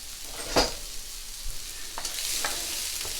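Shallots frying in avocado oil in a pan for Singapore noodles give a steady sizzle, with a few clinks and stirring scrapes near the start.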